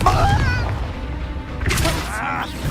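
The Confringo blasting spell in Hogwarts Legacy, a wizarding game, bursting as a couple of sharp booming blasts amid combat noise, with voices shouting over the action.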